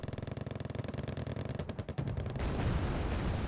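T-72B tanks fire on a town in Wargame: Red Dragon, a fast run of rhythmic booming shots that breaks into a heavier rumbling roar of explosions, loud and without voices.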